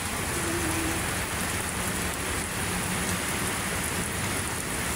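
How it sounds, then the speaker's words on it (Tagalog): Heavy rain by Manila Bay pours steadily throughout, a dense, constant hiss of drops with no pauses and no voices. "Ang lakas naman ng ulan, oh."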